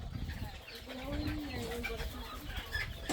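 Native chickens on a small farm give faint, scattered clucks in the background while a voice talks nearby.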